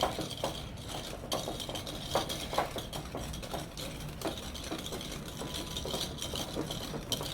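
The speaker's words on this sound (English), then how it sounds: "And I'll give it a good mix until it can't be seen." Brown sugar being mixed in a bowl for butterscotch chip cookie dough, heard as a steady, close scraping and stirring with scattered light clinks of utensil against the bowl, continuous throughout with no talk.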